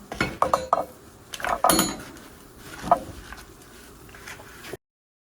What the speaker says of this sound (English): So try to jimmy it off of here with another spatula.